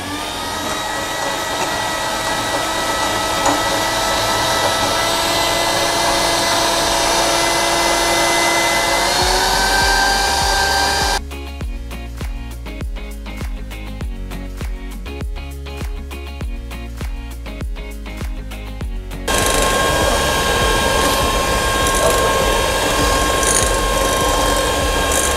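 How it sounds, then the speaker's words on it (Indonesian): An electric mixer whips egg whites for meringue, a loud, steady motor whir that cuts out for several seconds, leaving a quieter rattling, clicking mechanical sound, then resumes its continuous drone. "kemudian mixer"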